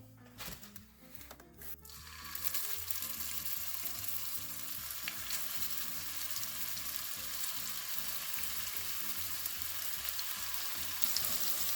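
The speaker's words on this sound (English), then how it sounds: "we are going to continue to let these cook until they are brown on each side" Keto meatballs fry in a pan of avocado and olive oil blend, a steady close sizzle that swells after a couple of seconds and holds evenly throughout, with a few faint clatters at the start.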